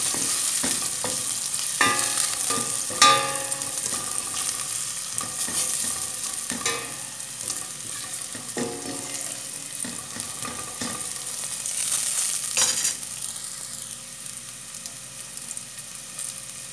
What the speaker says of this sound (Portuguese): vamos deixar o alho dourar